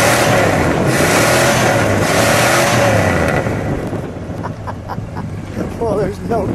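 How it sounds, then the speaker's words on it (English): A 1968 Imperial convertible with its 440 V8 revved: a loud, steady roaring engine note for a few seconds that settles back toward idle, with voices talking over it. "Give it a rev,"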